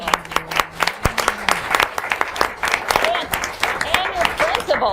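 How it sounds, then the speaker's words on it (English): School supporters clap and cheer at a combined board meeting, a steady patter of applause with scattered whoops, while voices talk over it. "it's always wonderful to have the support of your school here cheering both the teacher and the students on"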